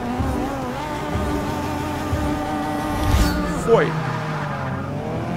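A Porsche 718 RS 60 race car in Forza Motorsport revs and accelerates with a steady engine drone, and a short tire squeal cuts in partway through. Someone talks over it.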